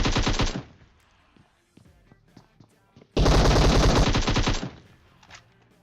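DP machine gun in PUBG Mobile firing two loud, close, rapid bursts, the second longer, with scattered fainter shots in between.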